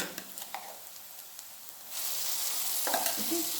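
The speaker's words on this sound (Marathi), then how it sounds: "कांदा भाजून घेतलेला आहे मी चांगला आता वाटण टाकते सगळं आणि मिक्स करून घेते" Masala paste stirred into fried onions in a pan while cooking Malvani sukka chicken: a few light spoon taps and scrapes, then a steady, close sizzle that swells and holds with occasional scraping clicks.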